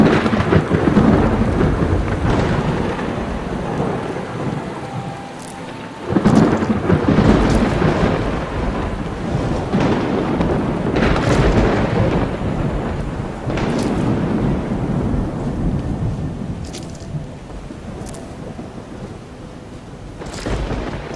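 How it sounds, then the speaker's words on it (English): Steady rain pours throughout in a video game, Skyrim Special Edition, with rumbles of thunder rolling in and out at moderate to loud volume; no voices. "Alright, it's still raining."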